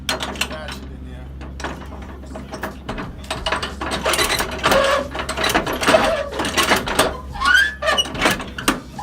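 A ratchet winch bar clicks through repeated bursts of sharp ratcheting, close and fairly loud over a low steady hum.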